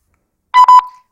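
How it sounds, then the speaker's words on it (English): Walkie-talkie confirmation beep after the lock button is pressed: a single short electronic tone, briefly stuttering in the middle, loud and close, alone with silence before it. "Press lock until you hear a beep."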